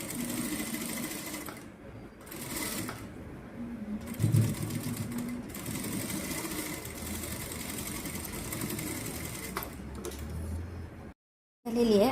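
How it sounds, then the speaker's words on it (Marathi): A domestic sewing machine runs steadily for most of the span, stitching a straight seam on cloth for a baby girl's cap, with brief pauses and an abrupt stop near the end before it starts up again. "आता ह्याची सरळ शिलाई करून घ्यायची"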